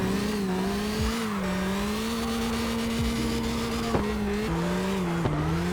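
A steady, droning drift car engine in the CarX Drift Racing Online video game hums at a fairly constant pitch with slight rises and dips, vacuum-cleaner-like, with the whine of tires, continuous and close.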